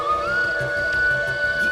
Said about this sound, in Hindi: ये तो बांसुरी की आवाज है।